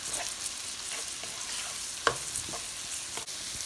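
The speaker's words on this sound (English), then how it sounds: "we are going to add the cabbage, the cut cabbage. Give it a stir." Cabbage frying in a pan for fried rice, stirred over a medium-high flame: steady close sizzle with soft scraping strokes and a sharper utensil knock near the middle.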